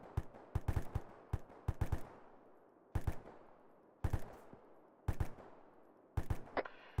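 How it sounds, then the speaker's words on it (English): Suppressive rapid gunfire in the military shooter game ARMA 3: repeated close bursts of sharp shots in quick clusters, separated by short pauses, loud and without talk. "Keep up the fire, suppressive rapid fire!"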